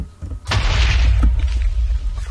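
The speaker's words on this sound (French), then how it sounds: "J'ai même l'impression que ça fait une explosion un petit peu plus grande qu'une TNT normale." A TNT-like gadget in a block-building game detonates with a sudden loud boom and a rumbling, crackling blast that sustains for about two seconds, close and heavy.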